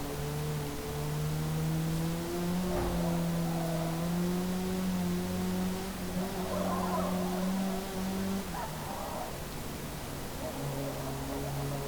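Turbocharged vintage hatchback racing in Forza Motorsport, a sustained droning engine with steady tonal harmonics that shift as revs change, a gear change near the end, heard alone without talk.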